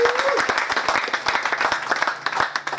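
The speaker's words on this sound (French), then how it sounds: "en la personne de M. Samuel Fanga Gahan, que j'aimerais, n'est-ce pas, que nous applaudissions." An audience claps in a lively, sustained round of applause, individual sharp claps standing out near the microphone.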